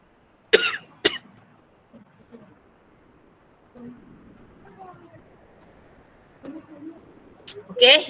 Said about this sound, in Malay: Sekejap nak batuk je.